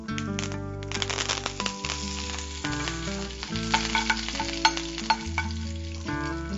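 Mustard seeds, black gram and curry leaves sizzle and crackle in hot oil for tempering, with irregular pops, under steady background music.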